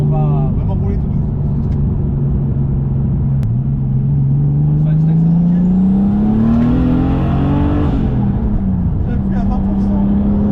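A BMW E36 325i turbo driven gently on low boost drones steadily from inside the cabin, its engine note rising slowly and then easing back, with a voice talking over it.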